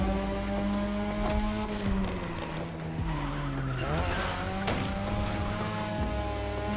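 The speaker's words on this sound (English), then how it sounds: "this car is just sliding by itself" A car in The Crew Motorfest racing game sliding out of control: continuous tire squeal and skidding over a steady, loud engine drone with shifting pitch, with no talk over it.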